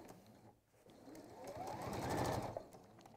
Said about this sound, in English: I've just popped in a little triple stitch just to hold that in place